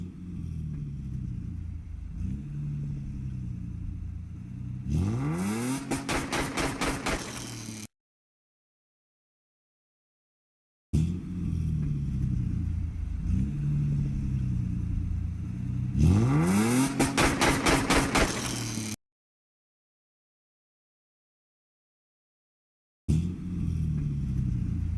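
A car engine revs hard as the driver floors the gas, repeating in loud bursts. Each rev climbs sharply in pitch and then cuts to dead silence before the next one starts.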